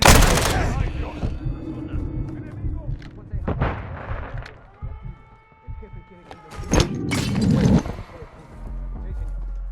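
Gunfire in Call of Duty Modern Warfare 2: heavy bursts and booming shots in loud clusters with pauses between them, mixed with game effects and voices speaking French.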